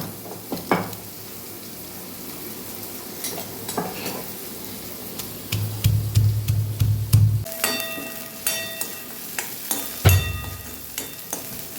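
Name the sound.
onions sautéing in a pan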